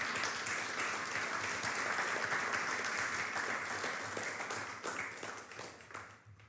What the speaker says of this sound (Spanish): Da un aplauso a ese Dios poderoso